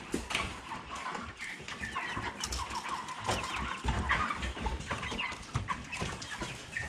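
A flock of month-old Ross 308 broiler chickens clucks and chirps continuously in a poultry house, many birds overlapping at close range, a busy murmur of calls with scattered rustling.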